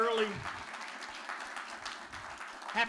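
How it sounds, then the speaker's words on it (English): Comedy show audience applauding the mothers in the crowd at a comedy bootcamp graduation, a faint, moderate round of clapping that follows a voice and fades back toward speech. "Give all my moms a round of applause, everybody"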